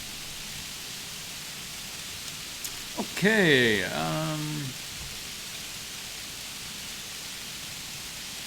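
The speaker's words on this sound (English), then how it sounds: "We're getting a lot of rain tonight." Heavy rain falls outside at night as a constant hiss that runs through the whole stretch, briefly overlaid by a short spoken word.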